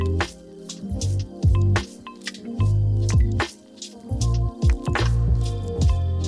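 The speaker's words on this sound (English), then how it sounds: "And then we are gonna pour in tomatoes, leaving a 1/2 inch headspace." Crushed tomatoes are poured into a glass canning jar, making close, wet squelching glugs and drips in irregular bursts with short pauses between pours.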